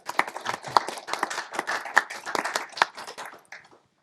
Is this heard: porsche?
no